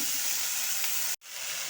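Slit green chillies hit hot oil in a pan, setting off a loud, steady, close sizzle that breaks off for an instant, then resumes.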